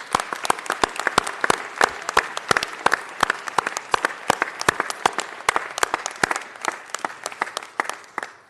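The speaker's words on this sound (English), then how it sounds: "So let's all give them a round of applause, please." An audience in a city council meeting chamber applauds honorees with crisp, distinct hand claps from a fairly small crowd, sustained for several seconds before thinning out and fading toward the end.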